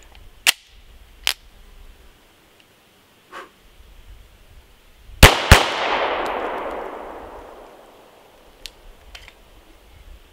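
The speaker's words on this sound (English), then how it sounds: "Alright, and now G4 Glock." Pistol shots from a Glock G4 fitted with a Strike Industries slide compensator: sharp loud cracks spaced out, with two close shots midway followed by a long fading echo, plus a few fainter clicks and clanks.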